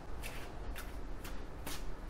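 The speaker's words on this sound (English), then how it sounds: "I'm going to shuffle a little more" Tarot cards being shuffled by hand during a Capricorn reading, giving quiet riffling bursts that repeat roughly every half second over a faint steady background hiss.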